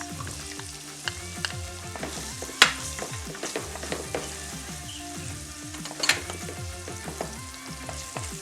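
Onions or scallions frying in a pot for stew peas: a bright, steady crackling sizzle up close, punctuated by rhythmic stirring scrapes and two sharper clanks of the utensil against the pot.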